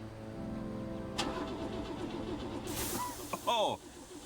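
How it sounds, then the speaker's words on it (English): A truck engine in the video game Oxenfree II cranks and turns over with a mechanical churn, followed by sputtering and a rising rev, ending in a sharp whining burst near the close. "Now he's just being annoying, so I'm gonna start the truck."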